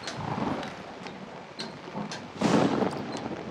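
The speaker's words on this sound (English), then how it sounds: "I do like thunderstorms though." Stormy outdoor ambience from the horror video game Outlast, with steady rain hiss, a low thunder rumble building through the middle and a louder swell of thunder near the end, with no talking.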